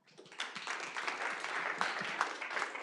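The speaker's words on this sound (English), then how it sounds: "Give him another round of applause." A conference audience applauds after a talk, a steady wash of many hands clapping at moderate distance for a few seconds with no pause.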